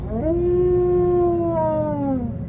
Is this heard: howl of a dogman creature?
yes